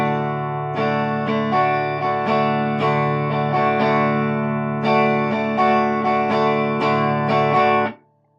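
Guitar strummed in an advanced syncopated rhythm pattern with tied sixteenth and eighth notes, steady bright chords repeating for several bars before stopping, played alone and close.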